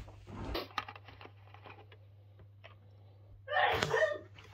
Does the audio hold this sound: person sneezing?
yes